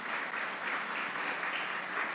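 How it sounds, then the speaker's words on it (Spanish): Church congregation applauding during a sermon on faith, an even, continuous wash of many hands clapping at moderate loudness without voices over it. "Dele un fuerte aplauso a Dios en este momento."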